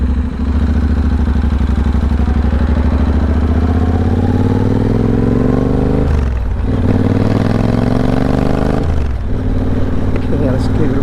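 A Triumph Bobber motorcycle engine runs close and loud, a steady throbbing idle with a few brief dips and swells in revs across the stretch, no voices.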